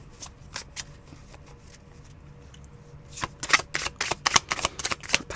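Tarot cards being shuffled by hand in a quiet room, starting with a few scattered soft riffles, then a dense run of sharp, rapid flicking bursts that grow louder toward the end.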